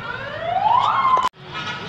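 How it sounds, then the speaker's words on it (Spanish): An ambulance siren wails past outdoors, loud and close, its rising tone sweeping upward before cutting off abruptly, then a fainter tail of traffic noise. "pasaba una ambulancia"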